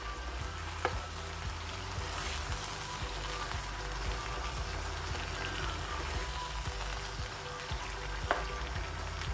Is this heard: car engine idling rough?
no